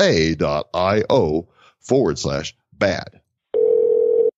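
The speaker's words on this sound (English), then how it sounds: "Bad Crypto voicemail. You have one new message." A voicemail system tone, one steady sustained beep heard alone after a stretch of speech announcing a new message.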